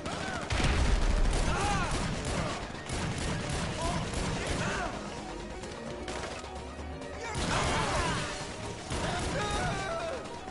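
Heavy gunfire in GTA 5 during a heist mission, with bursts of automatic shots and crashing impacts that come in dense waves, loud and close, with a player talking over parts of it.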